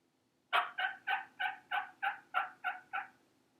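A handheld mouth call imitates a female turkey, producing a quick run of nine evenly spaced, clear yelping notes, fairly close and distinct against a quiet background.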